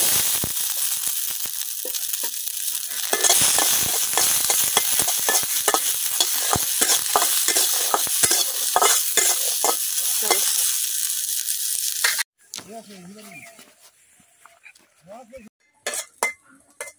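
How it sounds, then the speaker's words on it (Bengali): Onion and garlic fry in a pan, a loud continuous sizzle under dense stirring and scraping strokes that stops abruptly, followed by faint scattered clinks and a brief voice. "এখন বাজে নেম পেঁয়াজ রসুন গুলা।"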